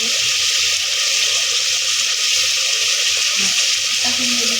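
Spice paste frying in oil in a pan, a loud, dense, continuous sizzle close by that holds steady throughout, with faint background voices underneath.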